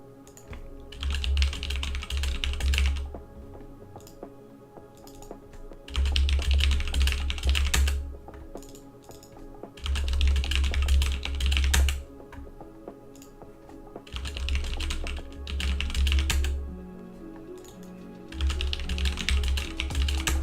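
Bursts of rapid typing on a computer keyboard while entering a password, clicking keystrokes in several separate runs of a few seconds each with short pauses between, close and fairly quiet.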